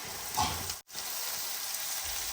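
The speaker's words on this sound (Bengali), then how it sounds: "এবার ভালো করে ভেজে নেবো" Chopped onion, ginger and garlic fry in hot oil with a close, even sizzle, a brief stir near the start and one momentary dropout, with no voices.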